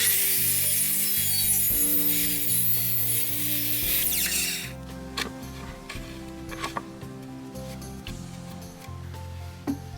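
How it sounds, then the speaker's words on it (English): Wood is shaved down with a hand tool so a part of a small two-person picnic table fits, first a loud continuous rasping for a few seconds, then quieter scattered scrapes and knocks close by. "Figure out a way to shave down there so it fits."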